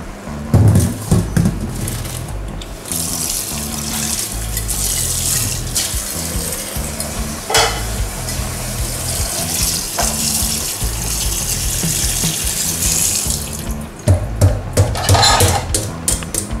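Cold water pours over strained Maggi noodles in a home kitchen, a steady splashing gush of running water that continues near and loud for the whole stretch, with clinks of a utensil and no talking.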